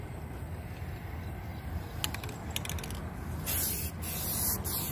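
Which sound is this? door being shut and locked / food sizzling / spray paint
spray paint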